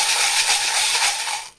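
A deck of cards riffled in one quick, continuous shuffle with a papery rush that cuts off at the end, close and alone.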